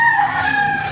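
A newly acquired gamefowl rooster crowing loudly and close by, a single sustained cock-a-doodle-doo call heard alone.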